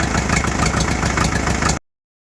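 A 1951 Farmall M tractor engine idles in a steady, pulsing low chug, loud and close, running evenly before cutting off abruptly to silence near the end.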